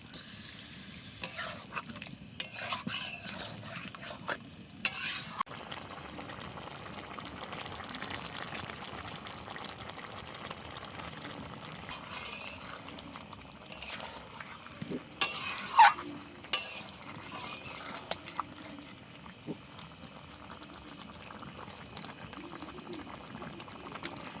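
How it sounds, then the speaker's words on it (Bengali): Chicken for a white restaurant-style rezala being stir-fried in a pan: soft scraping stirs and light sizzling continue throughout at a low, steady level, with brief louder clatters near the start and middle. "মাংসটা বেশ খানিকক্ষণ ধরে কষিয়ে নিয়েছি।"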